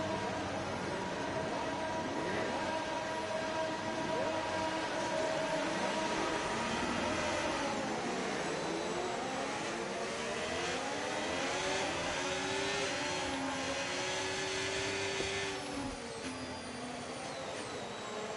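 Formula 1 cars in a racing video game roll through the formation lap at the Melbourne Grand Prix, with a continuous whine of engines, overlapping pitch sweeps as they accelerate and shift gears, and no speech.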